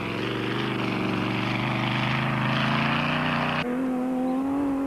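A Raceco Porsche off-road race car in the 1994 Baberspan 1000 drones loudly and steadily at high revs, then its pitch drops abruptly near the end as the engine note changes.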